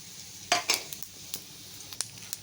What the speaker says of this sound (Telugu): పోపులు అయితే శనగపప్పు, జీలకర్ర, ధనియాలు, మెంతులు, ఆవాలునండి. నూనె అయితే హీట్ ఎక్కిందండి. ఇవైతే ఇందులో వేసేస్తున్నానండి